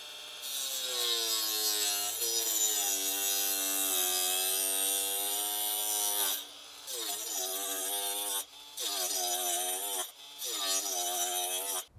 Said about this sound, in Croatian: Evo nam ga Bosch disk koji je multimaterijal, da vidimo kako drvo seče.